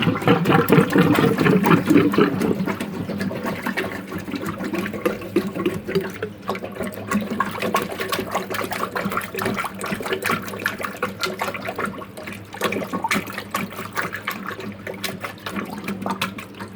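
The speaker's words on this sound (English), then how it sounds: "it's bubbling and making dripping sound in the drain" A clogged sink drain gurgles and bubbles as water sloshes and drips in the pipe, a busy, continuous watery churn heard up close that fades slightly toward the end.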